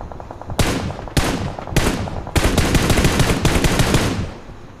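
Sniper gunfire in the battle royale game BGMI: three loud, sharp single shots spaced about half a second apart, then a rapid run of cracking shots that gradually fades, with no voices.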